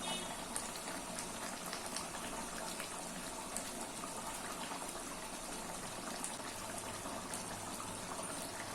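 Chicken masala for biryani cooking over a high flame, a steady dense bubbling and hissing that stays even and close throughout with no talk.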